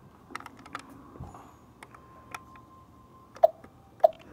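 Keys on a computer keyboard click in quiet, irregular taps, with a few sharper strokes near the end over a faint steady hum, and no talking.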